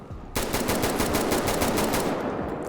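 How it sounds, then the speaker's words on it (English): Automatic weapon in a video game fires a sustained burst after a short pause, rapid evenly spaced shots ringing loud and close until the end. "you'll need to hit your fire button in a more concise manner to really get those shots and make them count"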